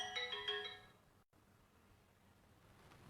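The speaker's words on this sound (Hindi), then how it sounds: "एक फोन आ गया था तो काटना भी जरूरी है।" A phone ringtone of an incoming call chimes in a quick melodic pattern for under a second, then cuts off abruptly, leaving quiet room tone.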